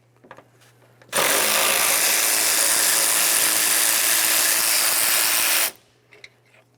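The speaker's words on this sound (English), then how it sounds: "remove our mounting bolts from up along the top. You're going to find 2 10mm headed bolts" A loud, steady burst of a power tool, likely an impact gun or drill, spinning out 10mm radiator mounting bolts on a 2001-2005 Ford Explorer Sport Trac, lasting about four seconds, with quiet shop noise before and after.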